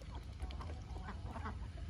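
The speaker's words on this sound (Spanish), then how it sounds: "No me espantes a los patos" Ducks quacking softly in a yard full of farm animals, a low cluster of short calls spread over steady background noise.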